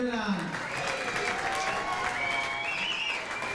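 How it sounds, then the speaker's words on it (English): An audience at a football club evening event applauds at the close of the night, a dense wash of clapping that fills the room with voices mixed in. "Before I take the applause"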